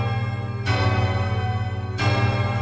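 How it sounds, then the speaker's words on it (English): Bells ring in the video game Silksong, two loud struck peals with long sustained, shimmering decay over a low steady drone. "let the bells sound for you"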